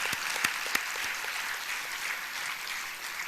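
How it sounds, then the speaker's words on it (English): Audience applause at an innovation awards night, a dense even wash of clapping from a large crowd, a few sharper claps near the front standing out early on, with no talk over it. "I think that also needs a big round of applause"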